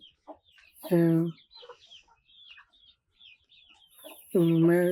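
Free-range country chickens react to thrown broken rice with soft scattered clucks between two loud, drawn-out squawking calls close by.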